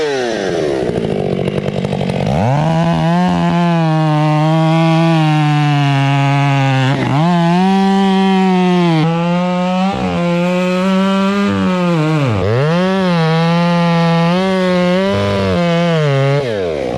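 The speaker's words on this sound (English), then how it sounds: "I'll cut this flare off, and then I'll make it, the more you can trim off the sides, it'll get a little easier to cut the tree." A chainsaw cuts the flare off a large tree trunk, roaring loud and close without a break, its engine pitch dipping and rising as the bar bites into the wood.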